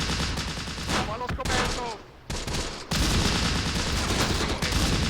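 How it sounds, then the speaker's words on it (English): Bersaglieri infantry in the Close Combat war game fire their weapons in a dense, continuous volley of rifle and machine-gun shots that pauses briefly once and then keeps going. "Alright, they're already firing, it's fine."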